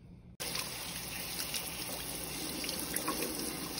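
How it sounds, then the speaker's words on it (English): Asparagus spears are rinsed under a running kitchen tap, producing a steady, close wash of flowing water with light splashy flecks after a brief silent start. "So I'm just rinsing them and getting them all cleaned off."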